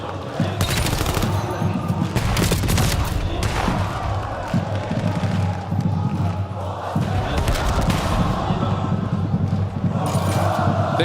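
Heavy bursts of rapid gunfire from a Call of Duty: Black Ops 7 esports match, loud, dense volleys repeating across the stretch with crowd noise and voices mixed underneath.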